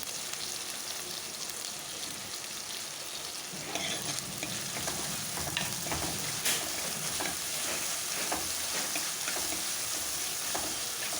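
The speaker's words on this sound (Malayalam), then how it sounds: "ബാക്കി നമുക്ക് ഇഞ്ചി, വെളുത്തുള്ളി ചതച്ചതാണ്. അത് ഞാൻ തക്കാളിയുടെ ഇതിലേക്ക് ഇട്ട് കൊടുക്കുകയാണ്. നന്നായിട്ട് വഴറ്റിയെടുക്കാം." Crushed ginger and garlic with tomato sautéing in a pan for a Kerala fish curry, giving a steady, close sizzle with occasional stirring scrapes and no talking.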